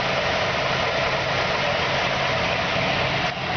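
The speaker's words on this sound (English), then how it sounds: "Just listen to the engine." All-original engine of a 1949 Ford F1 pickup with new plug wires, spark plugs, cap and rotor idling steadily, a close, even, rumbling hum throughout with no talking.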